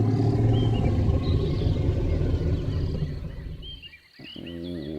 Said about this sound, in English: It sounded like a growl.